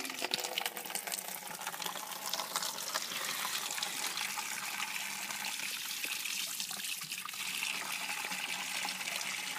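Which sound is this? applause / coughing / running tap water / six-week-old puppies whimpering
running tap water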